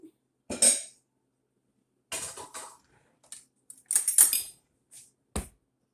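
Flour and salt are stirred together in a bowl with a spoon, heard as scattered short clinks and scrapes against the bowl, separated by silent gaps in a quiet room.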